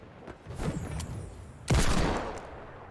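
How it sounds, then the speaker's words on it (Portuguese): Gunfire in the Fortnite video game comes as a brief scatter of shots followed by one loud, close blast that rings out and fades, with no talk over it. "como que esse tiro não pegou nele?"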